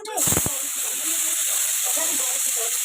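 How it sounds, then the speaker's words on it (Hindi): Hot oil sputtering and sizzling loudly in a pan on a gas stove while cooking an Odia egg Maggi recipe, a steady close hiss with a sharp burst at the start and talk over it. "तेल गर्म हो गया था इसलिए बहुत फूट रहा था।"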